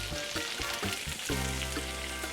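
Fresh ginger, garlic and tofu sautéing in a hot pan, a dense continuous sizzle up close with a few knocks and scrapes early on, then steady frying.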